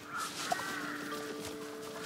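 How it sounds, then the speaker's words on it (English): Crows caw in the video game Time on Frog Island, a few raspy calls over a soft ambient hum, moderately loud and without speech. "He's got crows going crazy."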